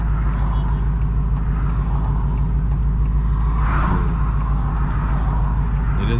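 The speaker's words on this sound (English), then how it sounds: "It is idling normal, okay." An 1100hp Redeye car engine idles close by with a deep, steady, rumbling drone, constant and loud with a faint swell in the middle.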